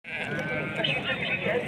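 Sheep bleat repeatedly among a noisy crowd at a Friday livestock market in Morocco, where ewes and lambs are for sale, the calls overlapping with steady chatter and market hubbub.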